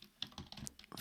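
A short burst of typing on a computer keyboard, with quick, uneven key clicks heard close and fairly quietly, alone.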